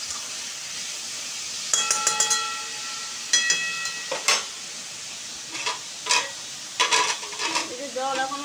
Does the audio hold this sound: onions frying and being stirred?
yes